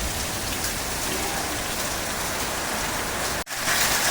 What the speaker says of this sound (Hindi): ये खतरनाक लग गई भाई बारिश।